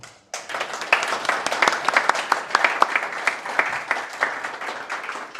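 An audience at a tech conference breaks into sustained applause after a talk, a dense, even crackle of many hands clapping at moderate distance, lasting several seconds with no talk over it.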